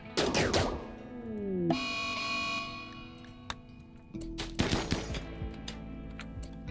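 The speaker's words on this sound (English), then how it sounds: "I want to see how Humongous does with this charge rifle." Charge rifle fire in RimWorld comes as rapid bursts of sharp electronic shots, loud and close, followed by a sustained synthetic tone and then another volley, with no talking.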